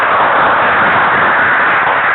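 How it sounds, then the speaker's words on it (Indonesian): Schoolchildren in a classroom clap together in dense, continuous applause that stays loud and even for about two seconds. "Tepuk tangan dulu untuk kita semua."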